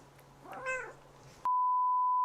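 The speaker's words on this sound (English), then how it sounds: "The cat jumped on my lap." A house cat gives a single close, drawn-out meow, followed by a sudden loud steady electronic beep.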